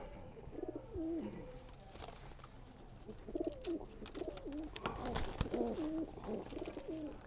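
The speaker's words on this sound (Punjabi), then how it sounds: "ਆਹ ਕਬੂਤਰ ਇੱਕ ਸਾਡੇ ਕੋਲ ਕਰਾਸ 'ਚ ਆ ਜੀ" Cross-breed pigeons in a loft give repeated throaty cooing calls in overlapping bursts, fairly close, over a low background hum.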